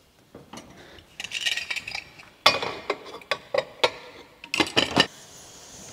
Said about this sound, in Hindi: मिक्स करने के बाद अब हमें कुकर का लिड लगा देना है।